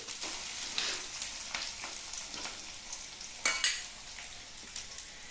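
Onion frying in oil gives a steady, soft sizzle close by, broken by a few sharper clatters of stirring, with no voices.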